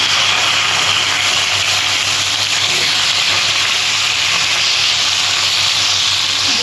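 Marinated koi fish frying in hot oil, producing a loud, steady, dense sizzling hiss with no pauses from start to finish.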